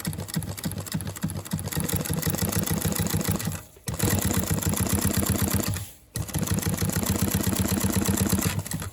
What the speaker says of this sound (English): So I'll just sew around here.